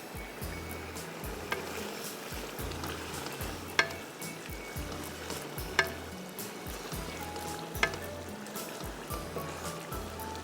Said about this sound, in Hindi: बस ये बेहतरीन भून जाएगा, तेल ऊपर हो जाएगा।